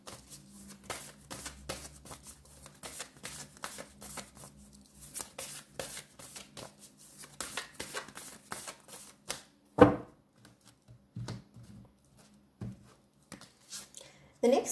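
Tarot cards are shuffled close by in quick riffling bursts of papery flicks, with a sharp slap near the middle and a voice talking over parts of it.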